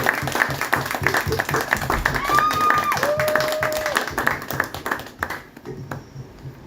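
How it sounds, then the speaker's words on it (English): An evening audience applauds the presenters at a talk event, a dense patter of clapping that rises and then fades out, with a few voices under it. "let's give our presenters this evening a wonderful round of applause"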